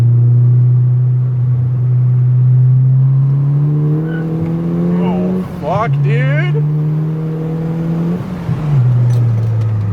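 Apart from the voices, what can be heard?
Subaru STI car accelerating fast, tires chirping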